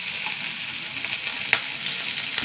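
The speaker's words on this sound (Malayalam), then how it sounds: "ഇഞ്ചി പച്ചമുളക് സവാളയൊക്കെ വഴണ്ട് വന്നു" Onion, ginger and green chili sauté in hot oil in a pan, giving a steady close sizzle with soft stirring scrapes and a brief clack near the end.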